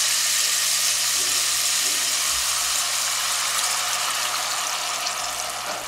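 Water is poured into a hot pan of sizzling beef brisket slices for doenjang jjigae, producing a steady loud hiss and bubbling sizzle throughout with no pauses.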